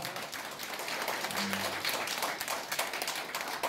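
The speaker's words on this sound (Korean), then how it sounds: "다시 한번 뜨거운 박수 부탁드립니다" An audience at a Korean seminar applauds a lawyer after his talk, with dense, fairly quiet clapping sustained evenly, with a brief low hum partway through.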